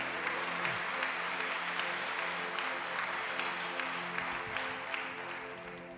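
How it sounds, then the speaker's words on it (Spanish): Church congregation clapping during a worship service, a continuous mass of applause heard at a distance and fairly faint, with a faint steady tone underneath and a voice briefly audible. "Aplauda bien fuerte, aleluya"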